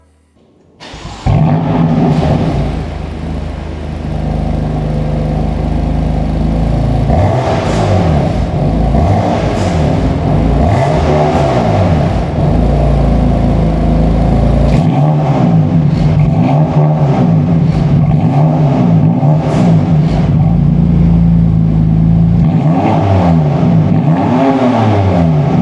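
BMW M4 on its first drive, its engine roaring loudly and steadily from close by, with repeated rising and falling revs as it accelerates and shifts through the gears, and no talking.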